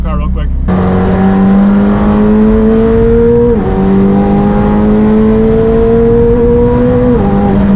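A McLaren Senna hypercar accelerates hard on open road, its engine note climbing through the gears in loud, rising sweeps broken by brief drops at each shift, steady and close throughout.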